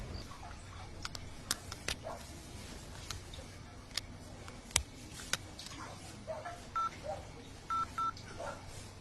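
Telephone keypad tones dial the police emergency number 100 in Telangana, India, as a series of short electronic beeps over a steady background hum, with a few louder clicks and a pair of longer tones near the end.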